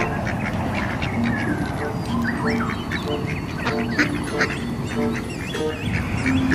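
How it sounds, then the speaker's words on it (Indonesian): A white duck quacks over and over at close range, its calls mixed with people chattering nearby. "ternyata ini hewan bebek"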